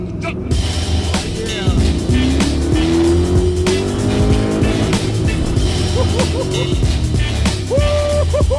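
A muscle car is driven hard, its engine roaring loud and close throughout as the tires squeal in long rising whines, with cheering voices mixed in over the steady drone.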